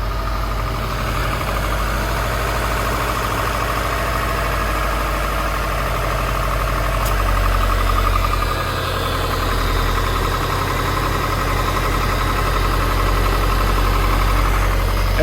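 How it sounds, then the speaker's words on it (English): A 2007 Subaru STI on its stock exhaust idles steadily, a quiet, even low hum and thrum that carries on unbroken, with a slight rise in tone partway through. "Oh, you hear the engine."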